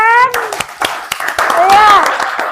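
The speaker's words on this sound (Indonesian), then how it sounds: "tepuk tangan untuk Vincent" A classroom of children clapping for a classmate, a few scattered hand claps mixed with a teacher's voice and children's chatter nearby.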